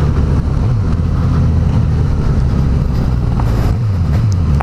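Close, loud, steady drone from the inline four-cylinder engine of a Suzuki GSX-S 1000 motorcycle on a ride, with brief rises and falls in engine pitch and no talk over it.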